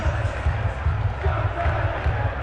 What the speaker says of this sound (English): the biggest cheer for the head coach, the man who has ended the trophy drought in North London